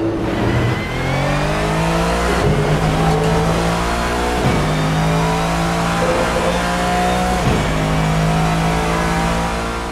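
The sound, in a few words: GT-M race car engine in the video game Assetto Corsa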